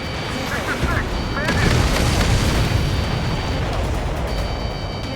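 A missile explosion destroying a target in Ace Combat 7: Skies Unknown: a loud, sustained rumbling boom that swells and then holds as a dense roar, with radio chatter and game tones playing over it.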